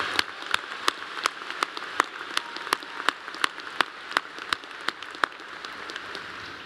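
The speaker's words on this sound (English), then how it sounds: "I think you all deserve a loud round of applause" Scattered, sparse clapping from a graduation ceremony crowd, individual claps spaced across the clip over a quiet room tone, fairly faint and thin rather than a full ovation.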